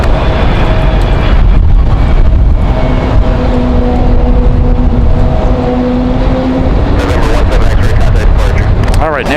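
Republic Airways airliner arriving at Raleigh-Durham airport on a windy day, a loud, steady roar of jet engines with shifting whining tones over heavy wind buffeting.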